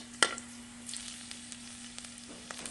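Garlic sizzles softly in leftover cooking oil with a faint, steady crackle and scattered small pops, close but quiet, over a low constant hum.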